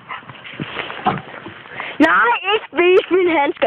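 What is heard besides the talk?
black poodle dog whimpering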